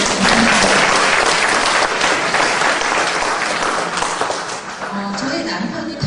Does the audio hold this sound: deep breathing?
no